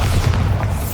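Bombarda blasting spell going off in the Hogwarts Legacy video game, a heavy low boom that rumbles steadily for about a second, loud and close with no talk.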